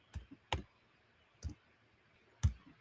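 A few separate keystrokes on a computer keyboard, typed to enter a search for a crypto fear and greed index: four or five soft, spaced clicks, fairly close and quiet, with no talk over them.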